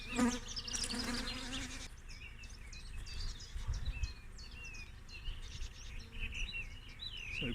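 Honey bees buzz steadily around an opened hive during an inspection where a little smoke moves them along, a dense close swarm hum with sharp flybys at the start and light background noise.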